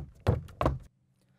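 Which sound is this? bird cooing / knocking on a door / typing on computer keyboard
knocking on a door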